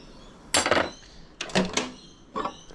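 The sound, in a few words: stirring melted soft plastic in a pot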